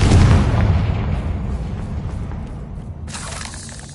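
A Confringo spell explosion in the Hogwarts Legacy video game: a loud, close boom with a deep rumbling tail that fades over several seconds, and a brief hissing burst near the end.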